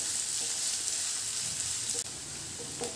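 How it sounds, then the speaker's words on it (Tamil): Chopped onion and green chilli sauté in a hot pan for a snack, giving a steady, even sizzle with a brief scrape of stirring partway through and no voices. "ஆனியனையும் பச்சை மிளகாயும் லைட்டாக நம்ம வந்து வதக்கி விட்டுடலாம்."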